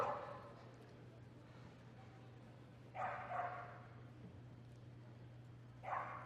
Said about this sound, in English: she's going to show you how with a young dog, you get a dog to speak